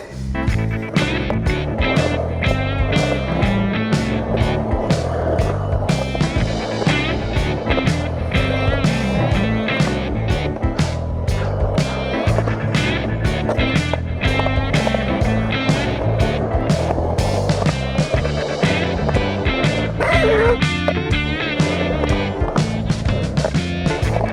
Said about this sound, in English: when I'm out here skating, I'm really focused and making sure I warm my back up good enough